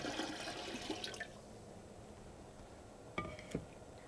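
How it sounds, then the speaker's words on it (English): Water is poured into an empty home canner sitting on the heat source, a splashing, rushing pour that dies away after about a second, followed by a few faint clinks and drips. "add 2 to 3 inches of water"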